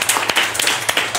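Brief clapping from a live audience at a French talk on flow, a few distinct, uneven hand claps close by rather than a full ovation.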